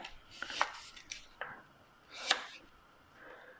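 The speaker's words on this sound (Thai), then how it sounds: "ก่อนนื้เรามาหั่นขากันก่อนนะคะ" Galangal root chopped with a knife on a cutting board in a kitchen, a handful of quiet, irregular crisp chops with short pauses between them.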